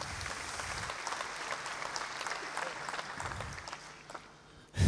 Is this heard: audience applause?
yes